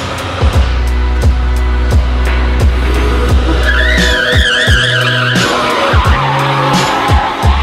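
A shifter kart spins a donut on pavement, its tires skidding and squealing loudly over the revving two-stroke engine, with a wavering screech that rises and falls as it circles close by.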